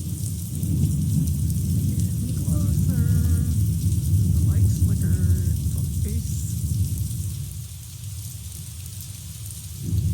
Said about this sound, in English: Thunder and the lights were flickering on the windward side of Oahu yesterday.